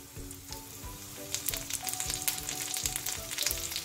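Diced ham sizzles and crackles in a frying pan, a close steady fry with scraping stir sounds and faint clinks as the pieces are turned.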